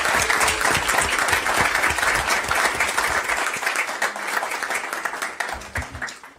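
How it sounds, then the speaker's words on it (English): At a school district board meeting, the room gives a round of applause: a full, steady burst of clapping that gradually thins and fades over about six seconds. "Let's have a round of applause."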